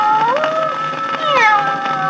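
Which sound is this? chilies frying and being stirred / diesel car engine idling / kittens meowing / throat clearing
kittens meowing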